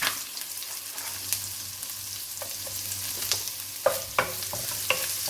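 Chopped garlic and ginger sizzle steadily in hot oil in a pan, with occasional sharp clicks and scrapes of stirring breaking through the continuous fry.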